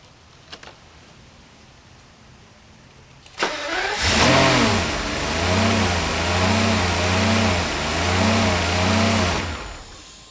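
A Mercedes 600SL engine cranks and fires with both EAs disconnected, then runs loud and close, its revs rising and falling in a repeating surge from an unsteady throttle.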